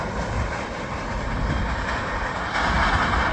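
A westbound freight train with hoppers and tankers and no rear DPU rolls past in Illinois, a steady close rumble of cars on rails that swells slightly toward the end.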